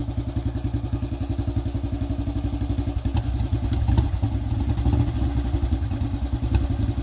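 An old Royal Enfield Bullet motorcycle's single-cylinder engine running at idle, a loud, close, steady low thumping beat that thickens slightly midway, with no talking over it.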